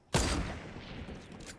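A sudden burst of rapid video game gunfire erupts, then trails off into a rumbling echo, loud and close.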